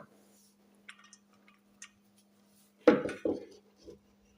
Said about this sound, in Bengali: প্রেশার কুকারের ঢাকনা